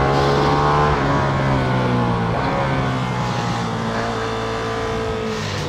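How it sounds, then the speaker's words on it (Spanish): Ducati Streetfighter V2 engine climbing through the revs under way in Sport mode, a loud, rising twin-cylinder howl with a shift-like dip partway and steady wind rush, no voices. "mira cómo suena cuando la subes de vueltas"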